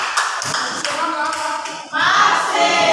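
Classroom applause from students in an Indonesian teacher-training lesson, a burst of clapping that swells into steady, dense clapping after a brief dip, fairly close and loud, with no talk over it.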